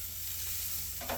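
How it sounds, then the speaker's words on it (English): Burger sizzling on a hot grill as it is flipped, a steady close frying hiss with a brief scrape of the flip near the end. "so we all need that burger flip"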